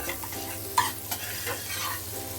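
Butter melts and sizzles in a heated pan for a cheese omelette, a soft steady crackle with a few brief scraping stirs, close and fairly quiet.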